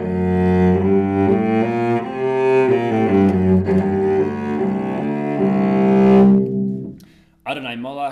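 A klezmer melody in the Mishebeirach, or Ukrainian Dorian, scale, with its augmented second between the third and fourth degrees, is played as sustained, connected notes over a low accompaniment and stops abruptly, followed by a brief sound at the very end.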